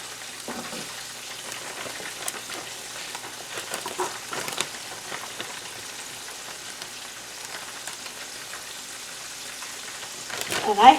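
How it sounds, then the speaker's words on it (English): Pieces of chicken fry in a pan with plenty of oil, giving a soft, steady crackling sizzle with scattered pops, moderately quiet and close, with a louder burst at the end. "I have enough oil in here that it's almost deep frying them"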